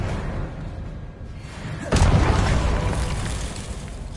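A Confringo spell blast in Hogwarts Legacy hits with a sudden booming explosion midway, loud and close, then a rumbling tail that slowly fades.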